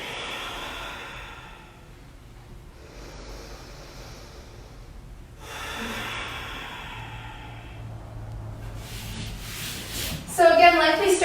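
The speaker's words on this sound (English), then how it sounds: "I want you to just start with a slow breath, lengthening the breath a little bit more" Slow, deep yoga breaths drawn in and let out softly, each inhale and exhale stretched over a few seconds, faint and close, ending in a louder rush of breath.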